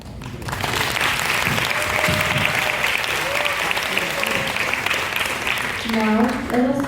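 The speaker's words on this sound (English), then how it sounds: "applause." A young-student audience at a first-year high school NABI project presentation event claps loudly and steadily for the presenting teams, a dense, sustained wash of applause with a voice starting to come through near the end.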